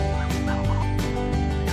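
Repeated honking goose calls ring out close by in rapid, overlapping bursts over a low steady hum.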